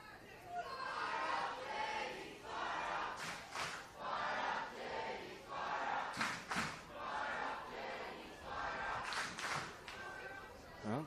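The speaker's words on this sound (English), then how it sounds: "the St John's fans starting a chant" St John's fans at an intercollegiate college soccer final chant from the stands, a rhythmic rising-and-falling crowd chant punctuated by claps and shouts, filling the whole stretch.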